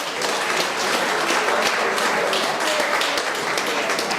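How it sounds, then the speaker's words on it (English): A crowd applauds steadily, dense clapping that holds at an even level from start to finish with no pauses. "Give them a round of applause."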